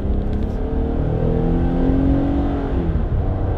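A six-cylinder engine in a 2020 Jeep Gladiator Mojave pickup pulls steadily under acceleration. It gives a continuous, loud drone with rising tonal harmonics, heard alone.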